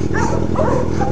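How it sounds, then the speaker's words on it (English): A dog makes short, close whimpering yelps and bark-like sounds, loud in a brief burst with no clear talk over it. "Look at that dog."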